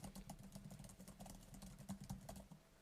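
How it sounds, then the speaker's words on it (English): Rapid, soft clicking of MacBook keyboard keys being typed on in a quick continuous patter, faint and close, with no voices. "What about say a MacBook keyboard?"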